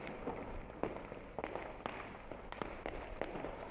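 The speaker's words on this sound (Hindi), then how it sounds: "साफ तौर पर देख सकते हो कि किस तरह के नाले पटाके चल रहे हैं, आतिशबाजी हो रही है" Firecrackers and fireworks set off late at night burst in a string of sharp cracks and pops, about one every half second, fairly distant over a steady background hiss, with no voices.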